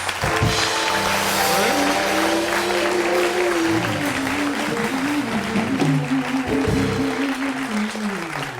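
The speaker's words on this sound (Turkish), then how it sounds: "Alkışlar da alıyoruz." Studio audience applause during a stage show, steady clapping running throughout, with musical tones from a show band playing underneath.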